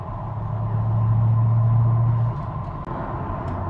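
Ford GT barn-find car rolling along with its engine running, a steady low hum with a droning tone that drops away partway, close and continuous, with a brief knock near the end.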